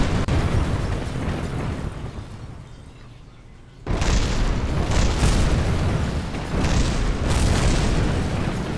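Loud rumbling explosions in Kerbal Space Program fill the space as a dense roar, dipping briefly before a sharp new burst and further booming waves.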